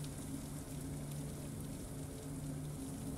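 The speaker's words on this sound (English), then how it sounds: "The sounds of the rain padding on the sill" Rain patters steadily on a windowsill, a soft, continuous hiss of fine drops with a low hum underneath, even and unbroken throughout.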